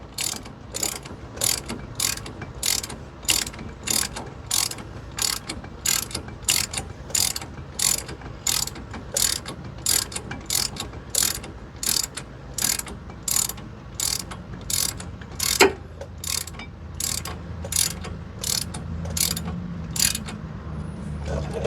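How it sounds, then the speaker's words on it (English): A hand ratchet tightens the caliper mounting bolts on a 4x4 hub, sounding as a long even series of crisp clicking bursts, close and repeated about once a second, with a light rustle between strokes. "now I'm going to just tighten up the caliper mounting bolts"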